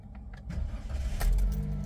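A 2023 Daihatsu Ayla R Matic car engine starts up nearby, a low rumble swelling partway through and settling into a steady idle.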